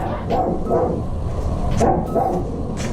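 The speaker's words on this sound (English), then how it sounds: "The neighbor's dogs are going nuts, sorry." A neighbor's dogs bark in several sharp bursts from a short distance away, repeating irregularly over a low background hum outside a home garage.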